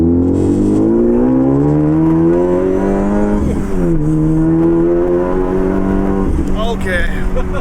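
A Honda Civic Type R with a PRL catless downpipe exhaust revs loud and close, its engine tone climbing, dipping and climbing again, while people speak over it.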